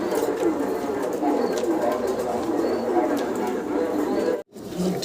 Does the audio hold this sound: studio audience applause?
no